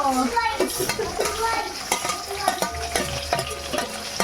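Green chillies and onion frying in a pan for chicken biryani, with a continuous sizzle, frequent spoon scrapes and clinks against the vessel, and faint voices in the background.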